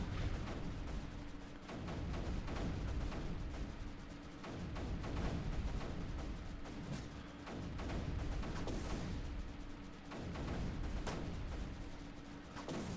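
Repeated cannon fire from digitalis cannons in the strategy game Creeper World 3, a steady barrage of loud, dense booming shots that swell and ease in waves without pause, heard alone.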